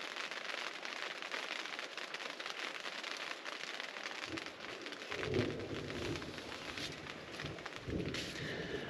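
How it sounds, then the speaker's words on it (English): Steady rain patters on a tent during a thunderstorm, a dense hiss of drops on the fabric with a few heavier thuds, no one speaking. "The rain's not coming in. It's just coming straight down"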